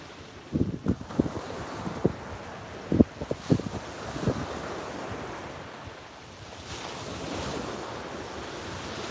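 Ocean surf washes onto a beach at sunrise in a broad, steady roar, with gusty wind buffeting the microphone in bursts early on.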